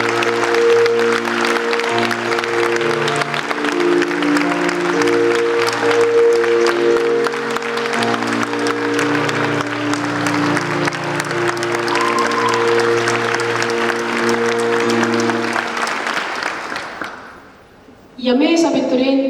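Steady applause at a high school graduation ceremony in Haapsalu runs under loud, sustained music for most of the stretch. It dips away near the end, then a short burst returns.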